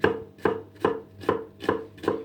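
Six evenly spaced knife chops on onions strike a board, each crisp thunk ringing briefly before the next, close and unhurried with no talking.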